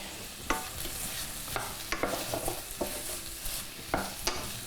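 Grated jackfruit sizzles steadily in hot oil, with a few sharp stirring clatters against the pan standing out over the constant hiss.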